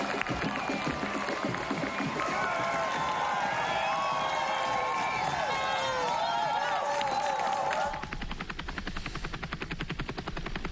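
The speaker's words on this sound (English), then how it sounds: "Really good crowds out on the course." Large crowds lining the Berlin Marathon course give a broad, steady roar of cheering and clapping, heard continuously with a broadcast helicopter's drone mixed in, until the sound abruptly thins near the end.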